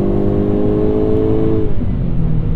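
A 2022 Hyundai Kona N hot hatch pulls through a corner under throttle, its engine droning steadily with a rising, then easing whine over heavy road and wind noise from inside the cabin, loud and close with no talk.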